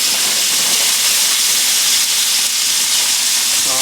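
Cauliflower steaks searing in a hot pan, a loud, continuous close hiss of frying with no break and no talk over it.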